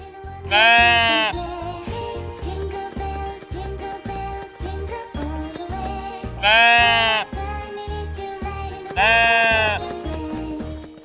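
Three loud sheep bleats, each wavering and drawn out, come at spaced intervals over a busy backdrop of rhythmic music with light jingling.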